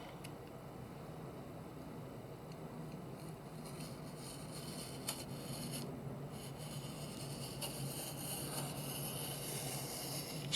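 Paper being trimmed for a handmade junk journal gives a soft, steady rasping scrape that runs continuously and close by, quiet and without talk.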